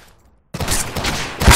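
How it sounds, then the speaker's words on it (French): Gunfire from a sniper rifle in the video game Insurgency bursts in suddenly after half a second of near silence, loud and close, with a further sharp report near the end. "J'ai tiré 3 balles, il est pas mort."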